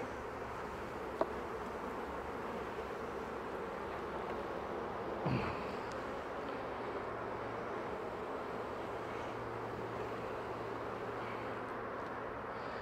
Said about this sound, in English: Just got a few bees coming on out.